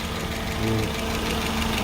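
A 2006 Daewoo Matiz four-cylinder engine idling close up, with a steady, loud low drone and an even hum.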